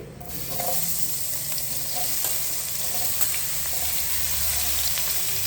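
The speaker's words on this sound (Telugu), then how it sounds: "కాస్తంత పచ్చివాసన పోయేదాకా మనం వేగించుకుంటే సరిపోతుంది" Sliced onions frying in oil with cumin seeds for a mutton curry, a steady close sizzle with occasional stirring scrapes throughout, no voices.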